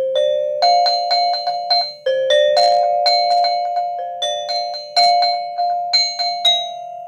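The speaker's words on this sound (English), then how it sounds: "I believe this one's an alto metallophone" An alto metallophone struck in a steady run of bright, ringing metal bar tones, each note sustaining and overlapping the next, played close and alone in a classroom setting.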